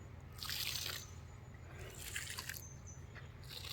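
Water being poured onto freshly planted cabbage seedlings in an open field, heard as faint soft splashing and dribbling in a few uneven bursts over a low background hum, with no talking.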